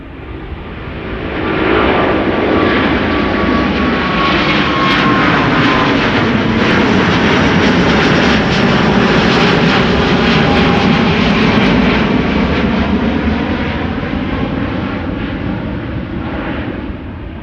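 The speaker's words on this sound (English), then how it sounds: "A350 Bravo 18903 is its registration" An Airbus A350 jet airliner passes at Amsterdam Schiphol airport with a loud, full engine roar that swells, holds strongly and then slowly fades.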